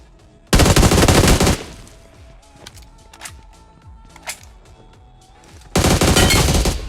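Automatic gunfire in the BGMI battle royale game: two long, loud bursts of rapid shots at the start and end, with scattered single shots and game sounds between them.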